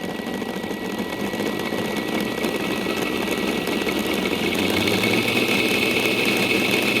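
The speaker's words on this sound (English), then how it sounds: "if we try to start the motor slowly" The electric traction motor of a 5 inch gauge Class 31 model diesel locomotive whirs steadily as it starts slowly, a continuous close drone that grows slightly louder and higher as it speeds up.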